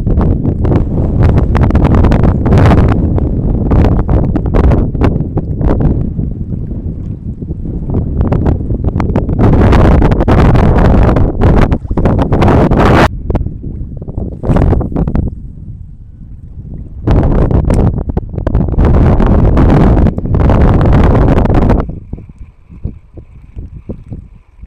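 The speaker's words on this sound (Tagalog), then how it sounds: "Medyo lumalakas yung amihan guys." A strong amihan monsoon wind batters a fishing boat at sea, roaring loudly into the microphone in long gusts with short lulls between them.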